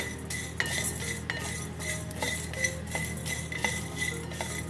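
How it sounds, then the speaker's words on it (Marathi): Black pepper, cumin and cardamom dry roasting in a pan, stirred with a metal spoon that gives repeated clinks and scrapes against the pan over a steady low background, no voices. "काळी मिरी पण टाकून घेते. आणि वेलची सगळं भाजून घेते छान."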